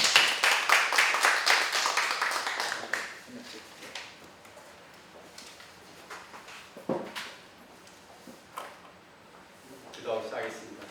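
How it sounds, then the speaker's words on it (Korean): A church congregation claps in welcome for a visiting pastor, a quick burst of many hands for about three seconds that gives way to someone speaking, with a few scattered claps and knocks afterwards. "우리 박수로 환영하겠습니다."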